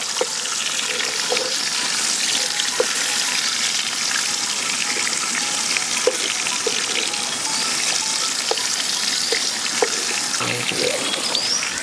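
Grated coconut and sliced tomato sizzle and crackle steadily in hot oil, a dense continuous frying hiss with occasional stirring clicks, close and loud with no talk.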